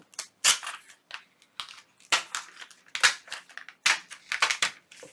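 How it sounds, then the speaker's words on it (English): Magazine pages are torn out for an altered junk journal, heard as a series of sharp, close paper rips and crinkles in short bursts separated by brief pauses. "Then I'm going to take 2 pages and I'm going to rip them out."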